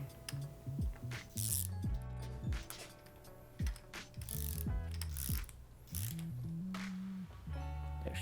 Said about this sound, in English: We will use a torque wrench and tighten this to the recommended torque spec.